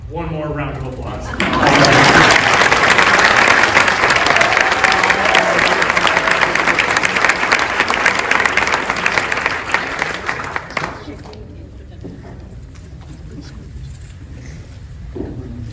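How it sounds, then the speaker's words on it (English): Audience at a Del Mar Union School District board meeting breaks into loud, sustained applause for nearly ten seconds, then fades to quiet room noise. "One more round of applause."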